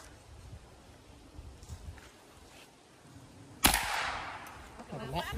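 One sharp gunshot cracks out partway through, loud and close with a short ringing tail, during a shooting lesson; quiet talking and rustling come before it.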